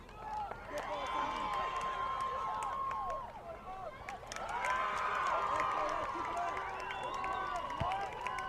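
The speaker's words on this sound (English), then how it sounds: "you're hearing the crowd noise from the girls' game going on opposite field here" Distant crowd cheering and shouting from a girls' soccer game on the opposite field, a continuous busy murmur of many voices rising in two swells under occasional nearer thuds.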